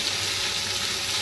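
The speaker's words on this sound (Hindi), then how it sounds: "चिकन को शामिल करके हम इसको तकरीबन 2 से 3 मिनट के लिए भून लेंगे।" Chicken with green chilies frying in a pan for yakhni pulao: a short, continuous sizzle of fairly even loudness.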